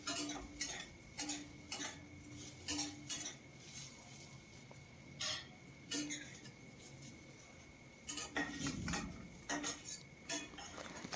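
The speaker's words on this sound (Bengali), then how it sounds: "এখন এই আলু আর বেগুনটাকে তুলে নিতে হবে।" Fried potato and eggplant are stirred in a pan, giving repeated metal spoon scrapes and clinks against the pan in irregular bursts over a faint low sizzle, with no talking.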